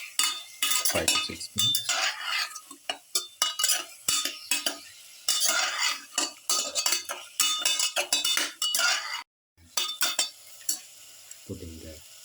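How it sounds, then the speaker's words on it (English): A spoon stirs a pepper garlic lamb and spinach stew mixture in a pan in quick, uneven scraping bursts with sizzling and clinks, close and loud, and a voice speaks briefly. "Thoroughly mix with the rest of the mixture."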